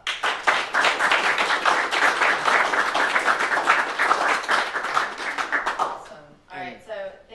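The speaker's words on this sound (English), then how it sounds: "give Joe a round of applause" A lecture audience gives a round of applause after a talk on logical constants, with brisk, dense clapping for about six seconds before it dies away and a voice speaks.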